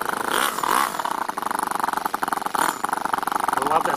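A small 2-cylinder 4-stroke engine fitted in an RC car idles slowly with a steady, throbbing rhythm, close and fairly loud throughout.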